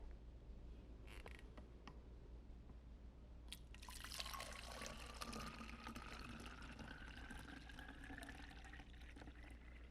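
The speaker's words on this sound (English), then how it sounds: "Now, using my funnel, I'm going to pour enough water to go halfway" Water pours through a funnel into a bottle, with a steady trickle and a rising pitch as the bottle fills. It starts after a few seconds of quiet handling and then runs continuously, close and fairly soft.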